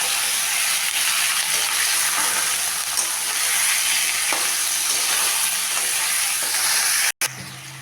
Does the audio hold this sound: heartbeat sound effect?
no